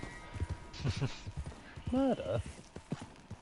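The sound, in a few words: horse hooves while riding, from a video game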